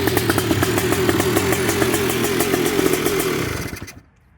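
A Honda TRX250R ATV engine with a new HPI ignition runs at a steady, rapid two-stroke idle with rattling clatter, loud and close, then cuts off abruptly near the end, leaving silence.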